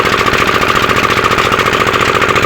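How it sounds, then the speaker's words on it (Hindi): A Peter diesel engine driving a sugarcane crushing mill at a village jaggery-making site, a loud, steady, rapid thudding chug with mechanical rattling, close and continuous throughout. "मैं एक बेलने पर मौजूद हूँ जहाँ पर रवायती बैलों की बजाय पीटर इंजन के जरिए"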